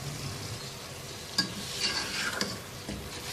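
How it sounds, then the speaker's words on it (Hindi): Marinated masala chicken fries and is stirred in a pan, a steady soft sizzle with a few scraping stirs of the utensil against the pan, fairly quiet and with no talking. "तकरीबन 4-5 मिनट इस चिकन को अच्छी तरह से भून लेंगे।"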